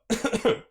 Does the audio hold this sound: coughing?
yes